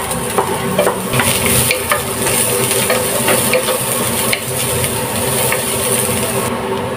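Garlic, carrot, onion and ginger sizzle and crackle steadily in a hot pan as mussel ginger soup gets started, with stirring scrapes running throughout at a fairly loud, close level.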